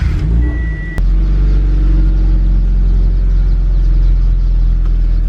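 A Scion FR-S with freshly changed transmission and differential oil pulls away, its engine a steady, loud low rumble that holds close and continuous after a brief dip at the start.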